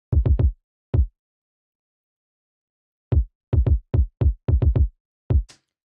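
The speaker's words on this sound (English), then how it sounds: "the next part will be the kick" A punchy hip hop kick drum sample plays alone in dry, isolated hits: a quick triple, a single, then a rhythmic run of kicks after a pause, ending with a brief higher tick.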